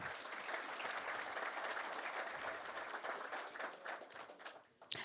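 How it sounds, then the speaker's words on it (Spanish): Audience applause at a book launch event, a sustained, fairly distant wash of many hands clapping that fades slightly near the end. "para quien pido un fuerte aplauso"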